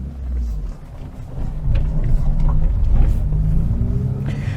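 Ford Puma 1.7 engine on the move, a loud deep rumble that swells as the car pulls away and holds steady, close and continuous with no talking.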